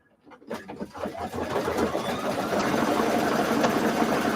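An embroidery machine starts up after a brief quiet moment and settles into rapid, steady stitching, a close mechanical whir with a rhythmic needle patter that builds slightly and holds steady.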